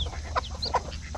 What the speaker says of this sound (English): But it's amazing, the chickens,